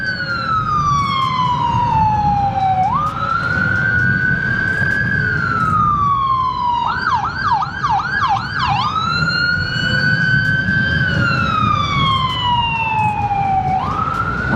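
A loud ambulance siren wails in long sweeps, briefly switching to a rapid yelp in the middle, over steady traffic noise, heard from a vehicle following it.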